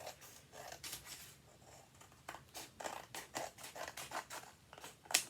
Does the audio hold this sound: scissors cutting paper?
yes